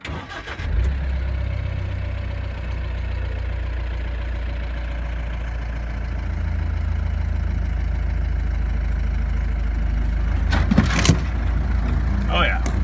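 Mahindra Roxor engine pulling steadily up a steep hill in first gear with no throttle and the transfer case in low, a continuous deep drone that swells slightly midway, with a few rattles and knocks near the end.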